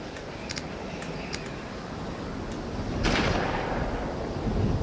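Gunshots in the Dreamcast game D2: a few sharp distant cracks, then a heavier booming blast that swells and lingers.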